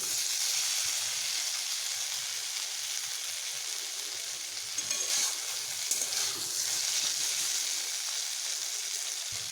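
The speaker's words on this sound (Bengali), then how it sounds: "মিডিয়াম হিট দিয়ে এটিকে আমি ভেজে দিচ্ছি" Bitter gourd and pumpkin frying in a pan on medium heat, a steady bright sizzle and hiss of oil that continues throughout with small crackling flare-ups midway, no talk.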